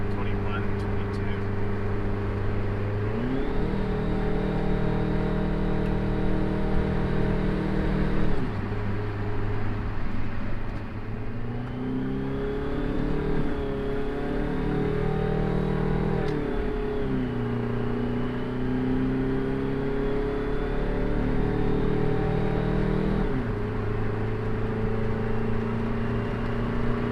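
A Detroit 4-53TIB turbocharged two-stroke diesel engine runs steadily with a strong low drone, revving up and holding higher speed twice before dropping back to idle, with a faint turbo whine above it.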